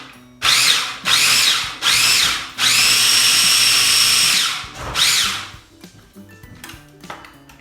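A food processor chops garlic for Hippocrates soup in loud, close motor pulses, four short whirring bursts, then a longer sustained run and one final burst before it winds down to quiet.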